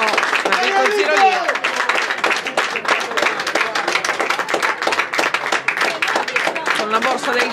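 Crowd applause with scattered claps at a football match, steady and fairly loud, as an injured player is stretchered off, while a commentator's voice talks over it in Italian throughout.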